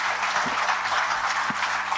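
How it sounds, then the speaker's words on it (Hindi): Applause from an audience at an industry program presentation on bio-CNG technology: a dense, steady wash of clapping holds at an even, fairly loud level throughout the brief moment, with no speech on top. "इसके लिए जोरदार तालियां।"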